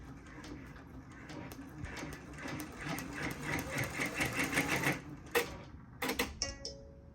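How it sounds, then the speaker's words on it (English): Embroidery machine stitching a team logo onto a knit beanie held in a hoop frame, a rapid rhythmic mechanical chatter that builds in loudness, then stops with a few sharp clicks and a brief beep. "you click lock and start, and then you should start stitching the colors that you selected"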